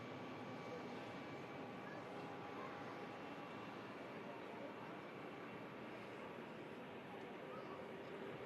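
A business jet idles on the runway at Manchester Airport, its engines a steady distant broadband roar with a faint whine, continuous throughout, under a thin layer of background noise.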